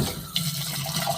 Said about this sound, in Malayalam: ഇങ്ങനെ വെള്ളം ഒഴിച്ചിട്ട് ഉണ്ടല്ലേ വെട്ടിത്തിളങ്ങുന്നുണ്ടോ.